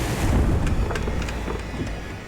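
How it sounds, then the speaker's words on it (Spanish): Huge waves pound the side of a boat at sea, a loud, continuous rushing wash with heavy low surging and wind buffeting, no voices. "Las enormes olas están azotando el lateral del barco."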